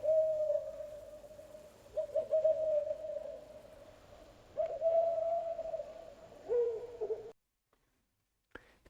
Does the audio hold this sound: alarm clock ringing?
no